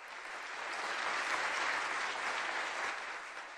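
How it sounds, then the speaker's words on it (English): Audience at a World Business Angels Investment Forum congress opening gives sustained applause, a dense wash of clapping that swells in the middle and eases toward the end. "I think they all deserve a really good applause"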